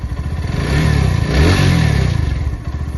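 A motorcycle engine idles after its loose inlet tappet was set with a feeler gauge, a loud, close, even throbbing putter with slight swells in revs and no talking.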